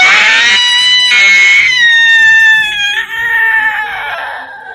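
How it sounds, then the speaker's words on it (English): Wailing scream effect for a Halloween haunted-manor tale, loud, high and quavering, rising and falling in long drawn-out cries with short breaks between them. "You hear someone wail,"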